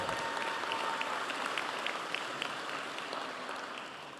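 An audience applauds deputies at a Harris County Sheriff's Office commendation ceremony. The clapping is faint and somewhat distant, a steady wash of many hands that fades slightly toward the end.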